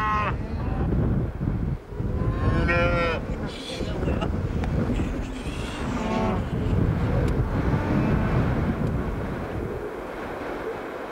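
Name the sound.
cattle mooing on a Patagonian farm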